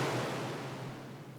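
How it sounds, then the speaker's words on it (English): A spacey reverb sample played on a Roland SP-404 MK2 sampler: a soft, washy wall of airy noise, like distant surf, that slowly fades with no other sounds. "I really kind of like this spacey reverb sound"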